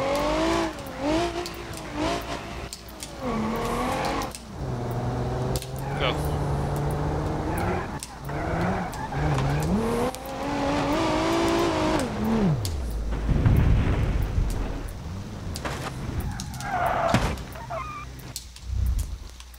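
A car in BeamNG.drive revs and races with tonal, shifting engine whine, then slams into a guardrail with a heavy crash and scraping, while someone talks over it throughout.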